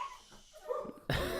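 A pet dog barks and yelps in a home, a couple of short sharp calls rising mid-clip and then a loud burst at the end, heard fairly close with no talking.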